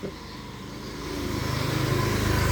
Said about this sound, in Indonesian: Itu motor saya.